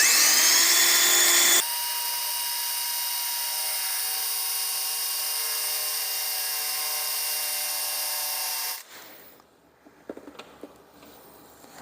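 Power drill with a 5 mm bit boring bolt holes into a jet ski rear sponson, a loud high-pitched steady whine that drops in pitch after the first seconds, then stops abruptly and gives way to quiet handling clatter.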